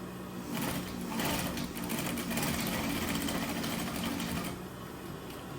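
A sewing machine stitches a Christmas stocking, running in a loud, continuous whirring burst of rapid needle strokes that drops off near the end, with back tacks and no talk.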